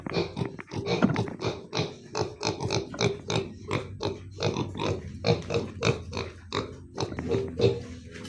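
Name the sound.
pigs on a farm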